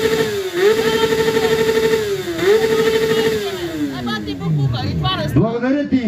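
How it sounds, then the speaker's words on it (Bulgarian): A motorcycle engine revs loudly in rising and falling sweeps at a contest, climbing in pitch, dropping back, then trailing off into a final blip near the end. "Сега да чуем Розалия и нейният мотор!"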